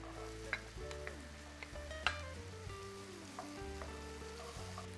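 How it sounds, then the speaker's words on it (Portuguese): Half an onion sizzles gently in light margarine in a pan, a faint, steady frying hiss with occasional clinks and scrapes of stirring over a low background hum. "Vamos colocar agora meia cebola."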